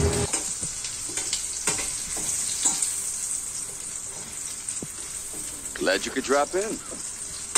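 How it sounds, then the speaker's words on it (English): A steak sizzles and spits in a hot pan, a steady broadband hiss with crackles and pops throughout, while a voice speaks briefly over it near the end. "You should hear a nice sound when I put this baby down."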